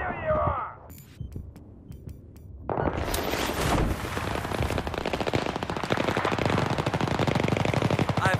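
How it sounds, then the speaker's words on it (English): Video game gunfire in a team deathmatch, with scattered single shots and then a sustained, rapid automatic burst of machine-gun fire that rattles on for several seconds, sounding close and loud. "So where am I getting shot from?"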